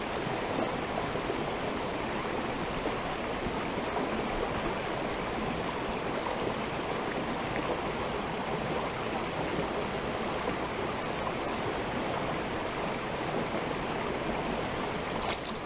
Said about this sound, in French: venir boire directement dans la rivière